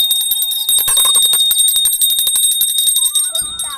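A hand bell rings continuously in rapid, bright, close strokes during a Gauri household ritual, loud and clear with no talking.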